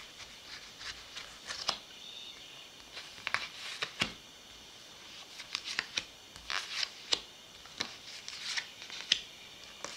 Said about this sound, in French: Je remélange et je vais aller demander 5 cartes.